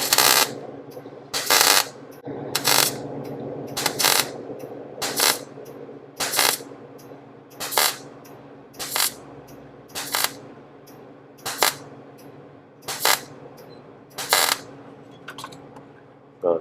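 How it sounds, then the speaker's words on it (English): Spot welds land on steel body panels of a vintage Willys CJ: a regular series of about a dozen short, sharp crackling bursts, each roughly a second apart, close and loud over a faint hum. "Clamp that, and I'm going to weld that hard"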